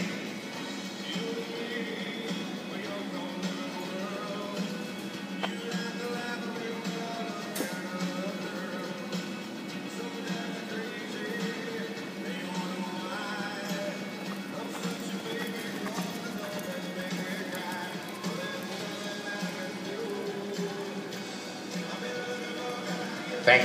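Horses at a hand gallop in a show arena during a hunter pleasure junior horse class, steady hoofbeats mixed with occasional whinnies under loud background music and arena ambience throughout.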